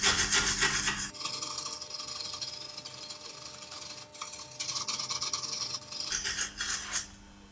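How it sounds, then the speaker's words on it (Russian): A metal wire brush scrubs dirt from the threaded stud of a BMW X5 E53 stabilizer link in short, gritty back-and-forth rasping strokes, close and fairly quiet, with a brief pause partway. "Первым делом очищаем резьбу от грязи при помощи металлической щетки."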